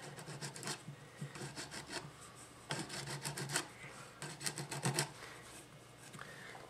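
A workpiece sanded by hand, with close, steady rasping strokes in uneven bursts that rub back and forth, heard alone without any talking.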